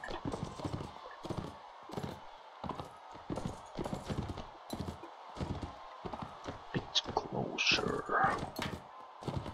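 Horse hooves clip-clop repeatedly in a Mount & Blade Warband tournament fight, steady rhythmic thuds mixed with sword clashes, a brief whinny and someone talking over the action.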